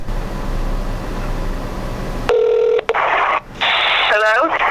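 A telephone call is dialed on speakerphone after a stretch of steady background hiss: clear, loud keypad tones beep in a quick sequence, separated by short pauses.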